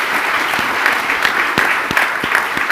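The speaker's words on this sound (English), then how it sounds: "A round of applause for our panel, please." Audience applause for a panel at a forum, a dense steady clapping from a sizable crowd, loud and sustained throughout with sharp individual claps standing out.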